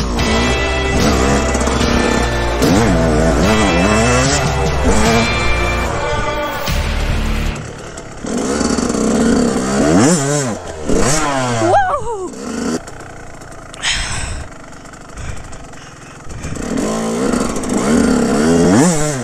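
A 2004 Yamaha YZ125 two-stroke dirt bike climbing a hill on an enduro trail, engine revving and bogging in rising and falling bursts. Loud and close, with gear changes and throttle blips.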